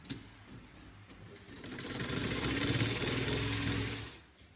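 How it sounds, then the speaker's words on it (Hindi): A sewing machine runs a straight stitch along a folded fabric strip, a close, fast mechanical whir that builds, holds steady for about two seconds and then stops. "अब इस पे हम ऐसे करके सिलाई लगाएंगे।"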